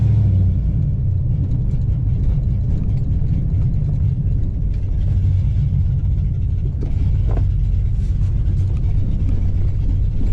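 Inside a Ford F150 pickup on its first drive after an engine rebuild, with a 2800 stall converter and built transmission, a steady loud low engine and road rumble drones continuously, with faint rattles and clicks on top.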